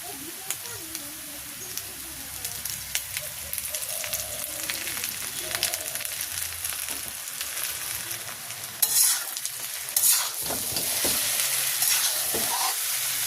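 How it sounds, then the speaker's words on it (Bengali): Taro (panikochu) fries in mustard oil in a village kitchen, a steady close sizzle broken by stirring scrapes, with louder bursts of hissing toward the end and a voice speaking faintly. "সুন্দর লাল লাল করে ভাজি করে নিলাম"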